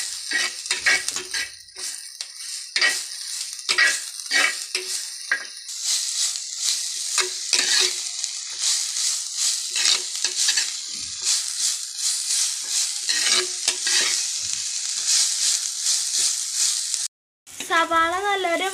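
Onions sizzle in a pan with salt added, the frying loud and steady while a spoon repeatedly stirs and scrapes through them; a brief pause comes near the end before the sizzling resumes.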